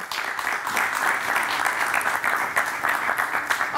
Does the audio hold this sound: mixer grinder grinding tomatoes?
no